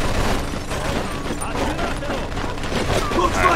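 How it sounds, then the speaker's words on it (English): A machine gun chatters in Mafia 2, a rattling burst of fire amid a busy gunfight, moderately loud, with voices talking over it. "Looks like we found the machine gun!"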